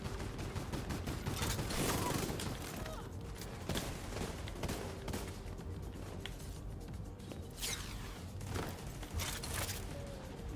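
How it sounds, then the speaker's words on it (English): Gunfire in The Division 2 with repeated sharp shots and bursts, some close and some distant, over continuous game noise, and talk mixed in. "Somebody's shooting me from across the fucking way."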